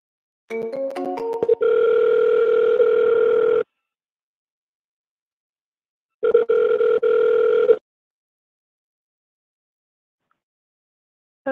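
Outgoing phone call: a quick burst of dialing tones, then two long ringback tones separated by silence, loud and clean through the handset, no voices.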